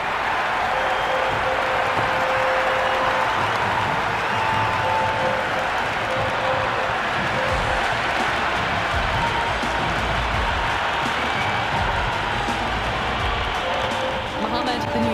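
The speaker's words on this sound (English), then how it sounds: "The crowd are really getting quite raucous." A stadium crowd cheers and roars steadily at a Cricket 26 video game PSL match, Hyderabad Kingsmen against Multan Sultans, a dense, loud, continuous wall of noise lasting the whole stretch with clapping mixed in.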